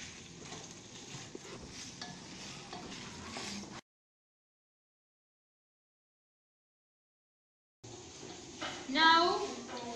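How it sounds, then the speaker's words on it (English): Aragonese sausages frying in a pan as they are stirred, a soft steady sizzle with faint scraping, broken by a few seconds of silence and then resuming with a brief louder stir. "cut the aragonese sausages and small pieces. Okay, and put it in the frying pan"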